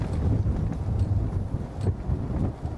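Steady low wind rumble buffets the microphone throughout, a continuous gusty roar with no voices, outdoors at a wedding.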